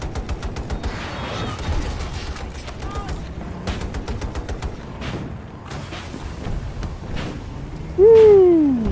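Scattered gunshots and bursts of automatic fire crackle through a busy Battlefield 2042 battlefield, mixed with distant booms and a loud rising whine near the end; voices talk over the din.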